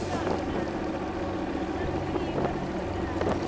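Boat carrying a volunteer team across a river in a remote village area, its steady engine drone and water rush continuous and close, with a voice talking over it.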